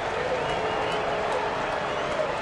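Baseball stadium crowd roaring for a strikeout at a White Sox–Mariners game, a steady, loud, dense wash of cheering and applause that holds without a break.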